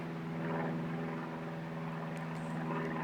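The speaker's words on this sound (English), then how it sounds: "And the beautiful sound of a plane." A propeller airplane drones steadily overhead in a forest setting, a continuous low hum with harmonic bands that holds at an even level throughout, with no voices.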